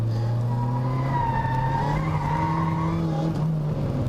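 A car on the Haunted Hills race track slides with a drawn-out tire squeal over a steady engine drone, the squeal rising and wavering for a few seconds.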